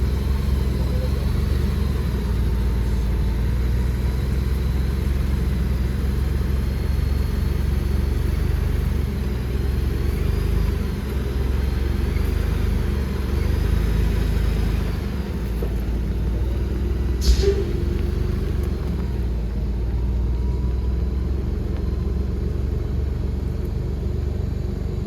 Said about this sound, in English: Now we are crawling, guys. As slow as I can possibly go.